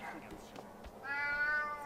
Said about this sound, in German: Da ist ja die Katze.